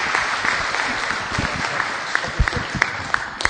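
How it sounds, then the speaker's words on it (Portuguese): An audience at a conference gives a round of applause for a guest speaker, moderately distant, steady clapping with a few sharper individual claps standing out near the end. "Salva de palmas, nosso Antônio."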